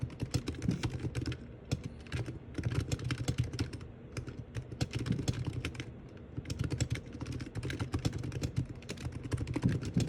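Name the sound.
typing on Razer Huntsman Mini keyboard with plastic keys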